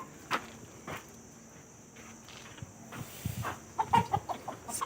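A rooster at a hotel makes scattered soft clucks and short calls over faint background noise, with a few louder close bursts near the end.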